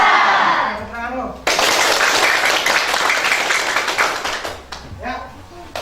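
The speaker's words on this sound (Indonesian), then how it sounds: "Tepuk tangan dulu." A class of schoolchildren claps in unison, a loud burst of applause for several seconds that tapers off, with a teacher's voice speaking before and after.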